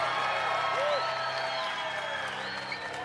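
A group gathered outdoors gives a sustained burst of cheering and clapping, a continuous crowd roar with a few whistles rising above it, moderately loud and steady across the whole stretch.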